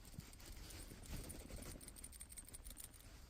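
Hollow lead burbot fishing lure with a rattle inside, shaken and knocked to make a rapid, continuous clattering rattle, close and fairly quiet, with no talk over it.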